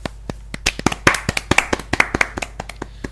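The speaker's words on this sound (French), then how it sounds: "je pense qu'on peut applaudir William H." Scattered clapping from a small audience applauding actor William H. Macy, a few pairs of hands giving irregular, fairly close sharp claps for about three seconds, with no talking.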